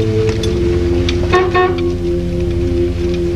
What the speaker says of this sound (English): And then they honk the horn at it again.